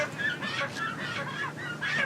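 Chickens at a market cluck and squawk in a busy, overlapping chorus of bird calls, fairly close and steady throughout.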